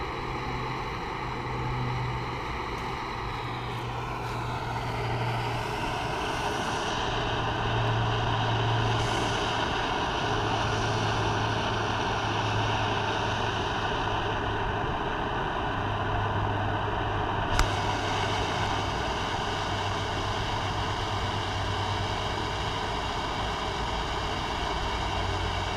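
An MSR MicroRocket backpacking stove burner roars steadily at full heat outdoors, a loud continuous rushing with a low flutter underneath, running alone without talk for the whole stretch.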